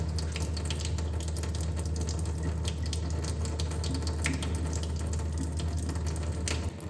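Water runs steadily from the faucet of a Waterdrop G3P600 reverse osmosis system while filling a cup, a constant close hiss with a low pump hum beneath and no talk.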